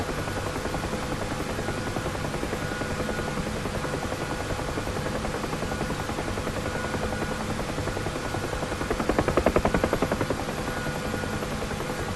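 Helicopter in the DCS combat flight simulator flying fast enough to hit blade stall past 125 knots, a steady loud rotor drone throughout with a brief rhythmic surge of blade thumping near the end.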